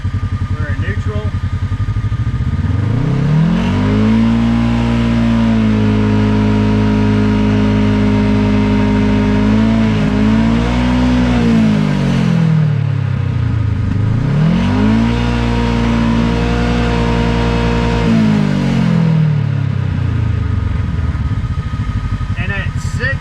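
A Kawasaki KRX UTV engine revs up and down through several long, loud sweeps to roughly 6,000–7,000 RPM, falling back between pulls, with a steady mechanical drone underneath throughout.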